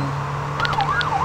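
A short electronic emergency-vehicle siren in a video game wails up and down, rising and falling in pitch over a steady low engine drone.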